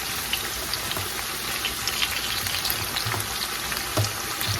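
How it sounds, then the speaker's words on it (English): Bitter melon fries in a pan for a Filipino breakfast, a steady broadband sizzle with faint crackles and pops spread through, constant and close, with no voices. "here I'm cooking the bitter melon"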